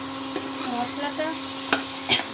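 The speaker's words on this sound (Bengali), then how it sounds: "এবারে মশলাটাকে ভালো মতো কষাতে হবে" Spice masala with salt and a splash of water for a mutton curry stirred and fried in a pan: steady close sizzle with a few sharp scraping strokes of the spoon, no talking.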